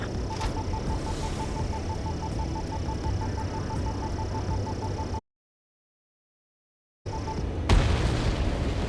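A heavy boom of a destroyed target blowing up in Ace Combat 7, a loud low blast that rises out of a constant roar of aircraft engine noise after a short complete dropout.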